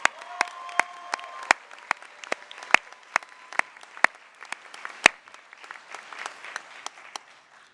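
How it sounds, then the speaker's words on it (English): Audience at a law school commencement ceremony claps after a speaker, a loose scattering of sharp individual hand claps at moderate distance rather than a dense wave, thinning out toward the end. "Let's give Tom another round of applause for that."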